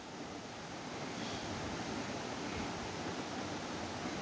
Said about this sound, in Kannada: ನೀರು ಹಾಕ್ಕೊಂಡು ರುಬ್ಕೊತಿದ್ದೀನಿ.